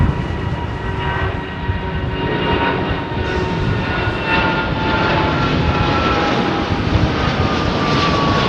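Boeing Dreamliner jet engines roaring steadily through a long takeoff run at London Heathrow, a continuous loud, broad whine and rumble with faint tonal whistles, heard from a distance with no talk.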